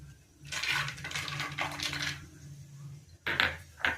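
Peanuts tumble into a pan of hot oil already seasoned with mustard seeds and cumin for garlic rice, making two rattling, sizzling bursts: a long one and then a shorter pair, close by with no talk.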